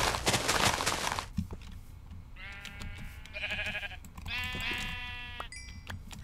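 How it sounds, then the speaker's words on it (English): Sheep in the video game Minecraft bleat several times, wavering cries clearly audible after a burst of noisy rustling, with the bleats repeating close by and fairly loud. "I'm sorry, sheep. I'm so sorry."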